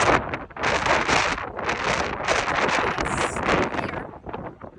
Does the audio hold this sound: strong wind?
yes